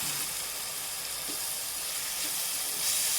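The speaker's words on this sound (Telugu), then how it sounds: "నేను పెద్ద సైజు టమోటాలు ఒక ఐదు సన్నగా కట్ చేసుకున్నవి వేస్తున్నానండి ఇవి కూడా మనము బాగా ఫ్రై చేసుకుందాం" Five large thinly sliced tomatoes frying in a pan for an egg curry give a steady, fairly faint sizzle and hiss throughout, close by, with no talk.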